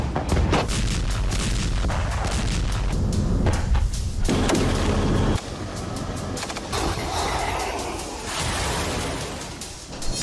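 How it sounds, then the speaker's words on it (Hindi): Heavy gunfire rattles through Gaza fighting in dense, overlapping bursts and sharp cracks, loud and chaotic, with brief lulls in between. "हमास और इजरायली सैनिकों के बीच जबरदस्त गोलीबारी जारी है।"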